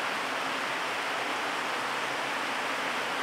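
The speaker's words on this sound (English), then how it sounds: "Sounds like there's a waterfall inside the cave behind me." Water rushes steadily inside a cave, a dense, continuous roar like a waterfall echoing from the darkness behind, loud and unbroken with no voices.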